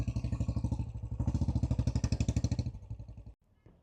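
A well-used Royal Enfield motorcycle, likely a Classic 350, pulls away nearby with a loud, steady thumping single-cylinder beat that rises briefly and then drops off as it rides away in Culross.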